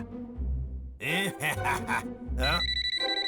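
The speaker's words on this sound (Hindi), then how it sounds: "अरे ये तो सर का फोन है" In a Boonie Bears cartoon, a telephone rings with a repeating electronic tone near the end, following a short burst of talk and other sounds.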